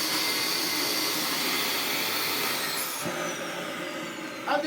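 An upright Dyson vacuum cleaner motor roars steadily at close range with a high whine, then its pitch shifts and a brief rattle sounds near the end.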